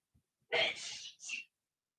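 A single close sneeze with a quick intake and a sharp burst, followed by a short trailing exhale, then silence.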